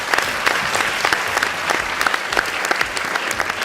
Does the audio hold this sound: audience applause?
yes